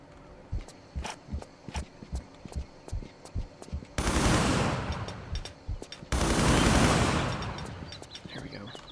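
Gunfire rings out in Tomb Raider III at the Crash Site level, where an MP5 fires a rhythmic series of sharp single shots, then two long loud bursts of sustained automatic fire.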